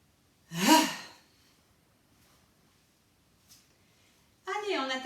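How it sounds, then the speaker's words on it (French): A deep breath drawn in and let out during a stretching session, one loud close breath near the start, then quiet, with a voice talking at the end. "Grande respiration."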